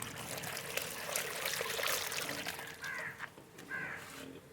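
Water is poured from a bottle into a potted jade plant, a quiet, continuous trickle and splash lasting several seconds, with faint chirps in the background.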